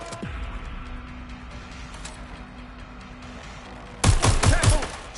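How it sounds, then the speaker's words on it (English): Gunfire in Watch Dogs Legion cracks out in a quick cluster of loud shots near the end, following a stretch of low traffic rumble and a distant hum. "Shots fired!"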